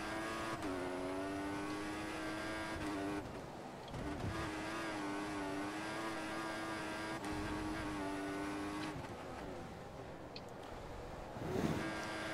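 Formula 1 car engine in the racing video game F1 2014 at the Bahrain Grand Prix, a steady high whine rising and dropping with gear changes, with brief shifts and a short burst near the end, no talking.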